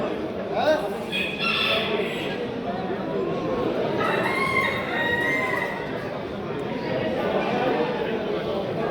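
Champion Sultan chickens and roosters at a poultry fair cluck and crow amid a busy hall, with people talking nearby throughout.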